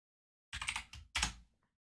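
Short bursts of computer keyboard typing, two quick clattering flurries of keystrokes close by in an otherwise silent room, with no voices.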